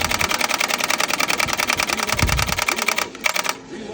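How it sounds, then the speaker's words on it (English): A machine gun in the Time Crisis arcade light-gun game fires a rapid, steady burst of loud shots for about three seconds, then stops abruptly into quieter game ambience. "Machine gun."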